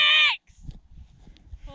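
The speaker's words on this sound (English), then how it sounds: "Lexi just ran off chasing sheep." A single loud bleat from a sheep on an open Lake District fellside near Helvellyn, cutting off abruptly and followed by faint rustling and footsteps.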